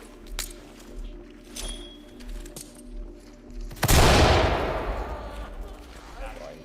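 A flashbang grenade goes off in a tactical shooter game with one loud, sudden broadband blast. A long ringing, hissing decay follows it, and quieter gameplay sounds come before it.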